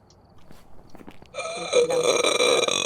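A person lets out a single loud, drawn-out burp that swells up after a few soft sounds and holds until the end.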